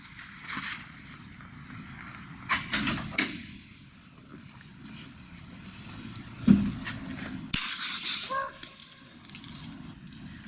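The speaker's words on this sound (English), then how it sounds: "Get the compressed air, get a bit of blast, a bit of pressure," A short, sharp blast of compressed air hisses into a brake caliper of a Porsche 911 Turbo (964) replica to push the pistons out, preceded by quieter clicks and handling noises in a workshop.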